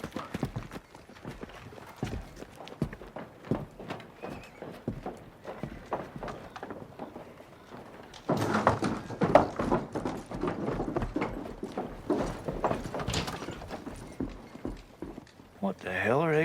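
Horses' hooves clip-clop in a western film scene with a stagecoach holdup setting, steady walking steps running under men's dialogue, then louder busier action sounds after the midpoint.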